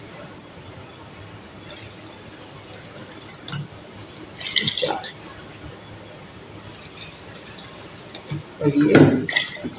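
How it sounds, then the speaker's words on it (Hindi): Five bowls of water poured one after another into a pot for aloo pulao, giving splashy pours and drips beneath a voice counting and talking. "इसमें ये 5 कटोरी पानी डाल दूंगी।"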